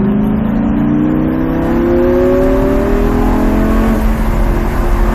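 A Lamborghini floored at full throttle on a straight, its engine note climbing steadily in pitch as it accelerates, loud and continuous with no talk over it.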